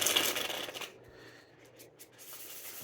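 A deck of tarot cards shuffled once, a brief close riffling rustle that fades into quiet handling noise.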